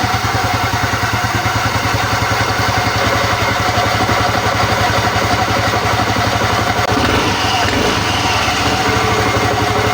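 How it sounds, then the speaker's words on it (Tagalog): A Yamaha Mio i 125 scooter engine runs at a steady idle just after a fresh oil change, giving a close, continuous low putter. The tone shifts briefly near the end. "start ang motor para mag-circulate ang bagong langis sa loob ng makina."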